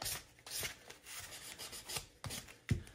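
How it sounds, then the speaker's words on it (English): Hand sanding of salvaged scrap wood for primitive decor, soft raspy rubbing strokes in an uneven back-and-forth rhythm, close but quiet, with no talk. "So just give that a little bit of a sand"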